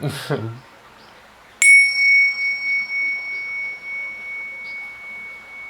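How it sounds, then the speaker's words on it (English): After a brief voice, a single bright bell ding rings out and its clear tone lingers, slowly fading. "Ring my bell."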